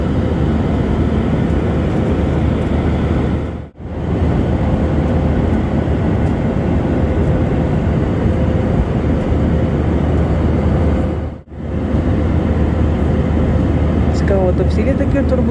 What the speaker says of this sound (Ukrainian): Всі літаки турбулентні ходять, чи то тільки сьогодні така погода?